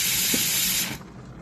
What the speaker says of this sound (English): So there is an excessive amount of steam coming out.